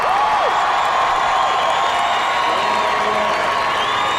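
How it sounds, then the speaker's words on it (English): Loud, sustained crowd roar and cheering in a stadium at the 2005 X Games Moto X Best Trick contest, with whistles and whoops over a dense wall of noise. "listen to the crowd."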